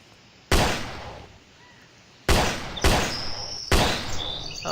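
Four loud, sharp gunshots in the video game Animallica, irregularly spaced, each with a ringing tail that fades slowly, and a few faint chirping tones between shots.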